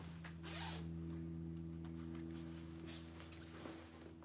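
Zipper being pulled along the center compartment of a Lucky Brand purse, a few quick close scratchy zips over a steady low hum, with no talking.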